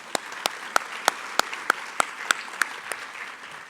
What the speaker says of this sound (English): So a round of applause for Hannaford